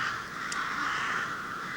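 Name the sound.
crows cawing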